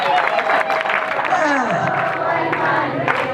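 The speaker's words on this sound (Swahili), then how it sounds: "Napigiro makofi mame yetu" Guests at a traditional Kuhaswa wedding clapping and cheering together, dense close crowd noise mixed with shouting and voices throughout.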